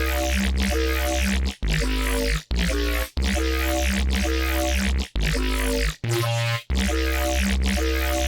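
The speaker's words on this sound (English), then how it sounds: "I copied that MIDI into a bass from Vital called Digestive Trauma" An aggressive, gritty synth bass preset from Vital called Digestive Trauma, loud and dense with a buzzing, distorted tone, chopped by brief sudden dropouts between phrases, with no voices.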